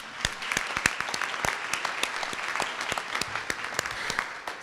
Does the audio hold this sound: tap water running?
no